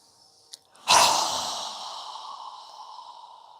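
A single deep yoga breath, a short intake followed by a long, audible exhale through the mouth that fades out gradually, close and alone.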